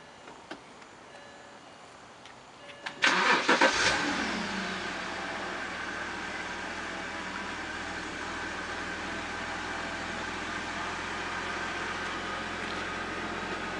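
A BMW car's engine starts with a push button: brief starter whir, a sharp catch and flare of revs, then a steady low idle hum that continues, heard from inside the car.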